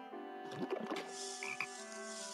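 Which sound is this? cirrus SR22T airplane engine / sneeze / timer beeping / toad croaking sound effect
toad croaking sound effect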